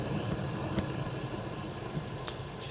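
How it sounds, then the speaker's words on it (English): Boiling water from a kettle is poured into a small jug in a home kitchen, making a steady rushing splash with a few faint clinks. "Gonna pour the boiling water in"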